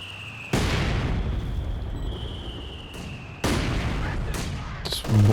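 Mortars explode in the strategy video game Company of Heroes 2, two heavy booming blasts rolling over a low battlefield rumble, with a smaller burst near the end.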